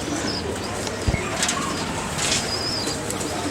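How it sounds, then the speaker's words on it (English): Pigeons at an animal veterinary hospital in Rajkot, with a brief flurry of flapping wings and soft cooing heard faintly against a steady, noisy outdoor background. "There are a variety of birds, mainly pigeons, and they come here again."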